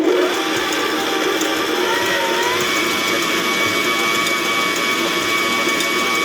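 An electric mixer whips egg whites with cream of tartar, its motor giving a steady, close, continuous whir and whine that holds throughout without talk.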